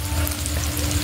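A dish frying in a pan with soy sauce, black pepper and salt added is stirred, giving a steady close sizzle with soft scraping throughout and no talk.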